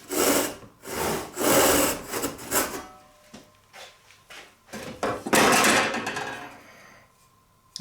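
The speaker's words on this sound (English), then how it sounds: "we've sawn down to depth on both sides" A hand saw cuts the cheeks of a wooden tenon down to depth in steady rasping strokes, with a pause in the middle before the sawing resumes.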